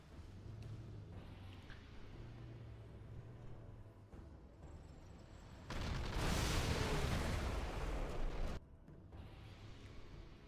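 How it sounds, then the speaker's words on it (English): An artillery barrage landing in a real-time strategy game, a dense roaring burst of explosions lasting a few seconds, loud against a quieter rumbling battlefield background. "Artillery coming in, top left."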